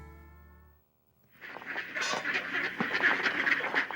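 Ducks quack on the banks of the Huron River, a busy cluster of repeated nasal calls that starts after a brief tonal note and a short pause, close and lively.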